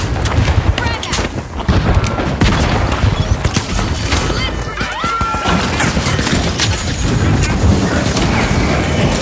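Grenade explosion in the video game The Finals, a loud continuous crash and boom amid dense battle noise, horse-like neighs and scattered bursts throughout, with no clear pause.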